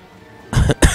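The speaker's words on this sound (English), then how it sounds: "Sorry if I'm coughing" Two short, sharp coughs from one person close to the microphone, following a quiet pause, with no talking.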